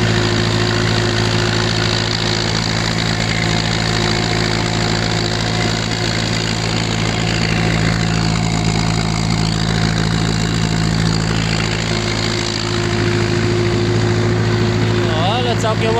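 A Ursus C-360 tractor drives a rotary tiller through heavy, wet soil, its engine running in a constant loud, steady rumble with a mechanical hum, close and unbroken throughout.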